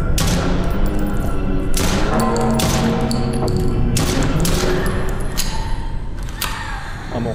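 Video game gunfire in a hospital setting: several sharp shots spaced across the stretch, ringing out over a steady, loud background of game music and ambience.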